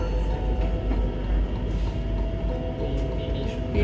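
A Bangkok metro train running above ground, heard as a steady low rumble with faint high squeals from the wheels, continuous and fairly close.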